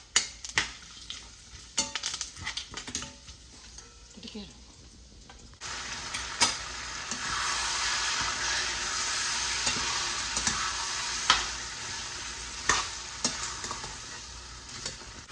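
Pongal with salt and tempering stirred in a pot: a steady sizzling hiss with scraping stirs and occasional utensil knocks, a quieter start giving way to louder continuous frying from midway.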